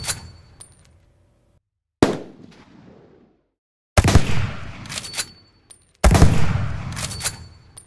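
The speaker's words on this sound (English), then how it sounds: "here are some simple tips to keep in mind when you are designing your own gun sounds" A layered gunshot effect fires four times with a sharp, punchy crack on each. The first two decay quickly, while the last two ring out louder and longer.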